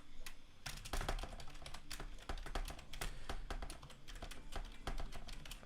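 Rapid typing on a computer keyboard close by, a dense run of crisp key clicks with a few brief pauses.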